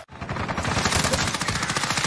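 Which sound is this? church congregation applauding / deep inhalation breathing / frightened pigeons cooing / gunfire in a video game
gunfire in a video game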